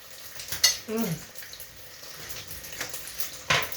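Water splashes and pours into a pot of rice on a home kitchen stove in short uneven bursts, with a gurgling run near the start and a sharp splash near the end.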